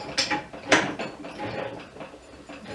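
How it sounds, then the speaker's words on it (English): An inlet fitting is tightened by hand onto the suction inlet of a reverse osmosis system pump, giving a few close, dry plastic clicks and scrapes with a ratcheting, mechanical texture that come in short bursts and then settle into quieter handling. "I'm going to take my inlet fitting, put it on the inlet of my pump. I'm going to get that nice and tight."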